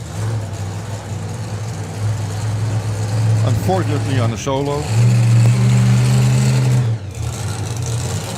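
A drag racing car coming around the corner at the FIA European Finals, a loud low engine drone that swells and sustains at a steady pitch, with a commentator talking over it.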